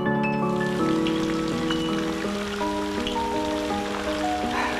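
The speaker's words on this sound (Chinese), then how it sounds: "下雨天" Steady rain falls over a rural village, an even, continuous hiss with no breaks, heard beneath soft tonal background music.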